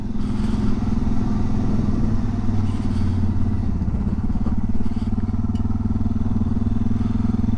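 An adventure motorcycle engine drones steadily and close at cruising speed, with a constant rumble, wind noise and faint clatter, and no voices.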